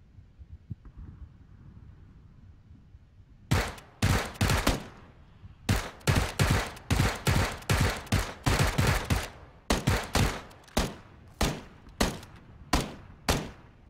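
Gunfire in the battle royale game PUBG: after a quiet start, loud single shots and short bursts crack in an uneven rhythm, many in quick succession, close and sharp.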